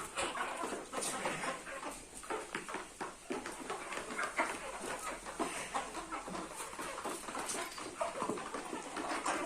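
Busy clucking and squawking from a group of chickens, continuous and fairly near, with scattered sharp calls over a steady background.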